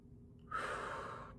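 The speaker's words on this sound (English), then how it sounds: "And you're going to breathe." A single long, breathy exhale during a strength training exercise, close and fairly soft, with a quiet pause before it and no talking.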